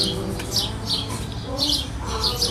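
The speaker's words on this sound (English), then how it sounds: "These birds always loud." Repeated bright bird chirps in quick bursts, a few calls every half second or so, over a steady low background rumble outdoors.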